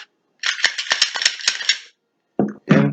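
An empty Glock pistol handled and dry fired: a quick run of metallic rattling and clacking, a short pause, then two sharp separate clicks, close and crisp against silence.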